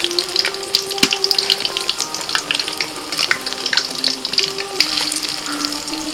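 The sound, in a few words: frying pumpkin fritters (kumro bori) in hot oil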